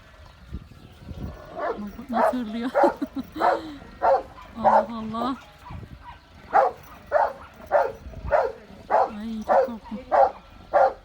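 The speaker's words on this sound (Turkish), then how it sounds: "Köpek delirdi arkadaşlar. Nerede başka bir köpek var ona havlıyor." A dog barks repeatedly in a steady rhythm, loud and close, with some whining yips between barks.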